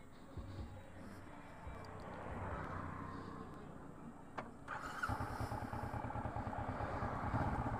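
A Kawasaki Versys 650 motorcycle engine starts up and rumbles louder as it pulls away, rising to a steady close engine drone with wind noise toward the end.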